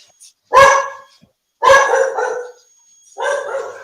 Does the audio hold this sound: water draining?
no